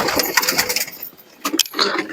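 Several pigeons coo and rustle together inside an indoor loft, a close, busy layer of soft calls and fluttering that dips briefly before rising again.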